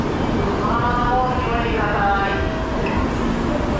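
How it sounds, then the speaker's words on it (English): A Japanese fast train pulls into a station with a loud, continuous rumble and a steady metallic whine that rises slightly as it arrives, amid platform ambience. "Oh, the train is here."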